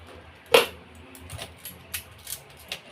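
Leftover household-spending coins saved for a month are handled and counted, giving several sharp metallic clinks and taps spaced irregularly, close and fairly quiet with no talk.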